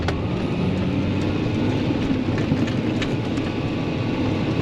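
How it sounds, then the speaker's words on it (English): A tractor engine throttling up while pulling discs across a field, a loud, steady engine roar that holds constant throughout, with no talking. "I'm gonna throttle all the way up, and listen to how snappy it is."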